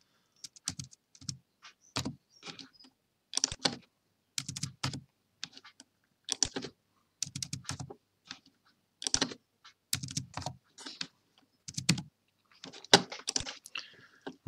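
Clicks and keystrokes on a computer keyboard and mouse while setting up a clock design in laser software, coming in quick close bursts and scattered single taps, with no speech.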